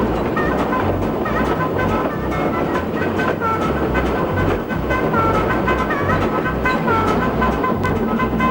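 Porter steam locomotive running on the Rainier Scenic railway, a continuous rumbling chug with rhythmic clanking and rail noise, loud and close throughout, with some voice faintly mixed in.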